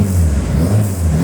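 A 1948 Dutton Melos kit car engine runs steadily just after a cold start, a loud, continuous low rumble with a slightly uneven idle beat throughout, close by with no voices.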